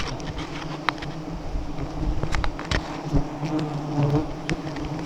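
Bees swarm around their nest outdoors, a dense continuous buzz with individual insects zipping close past and fading, over light wind.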